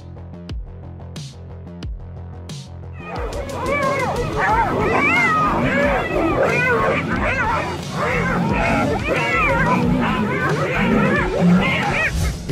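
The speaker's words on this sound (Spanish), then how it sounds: "Un grupo de hienas ataca viciosamente a esta leona, hasta que los refuerzos llegan a tiempo." A pack of hyenas attacks a lioness in the wild: frantic yipping, whooping and snarling fill the scene after a few sharp calls at the start, loud and continuous with several animals calling over one another.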